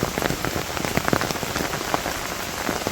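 Rain falls steadily on a surface in a rural village at night, a dense, loud patter of many drops hitting close by without pause.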